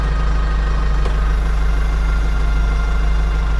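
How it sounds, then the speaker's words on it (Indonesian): A motorcycle engine idles as it warms up, a loud, steady, low, throbbing run that holds unchanged throughout and stops abruptly at the very end, with no voices. "kami semua mendengar suara motor yang menyala."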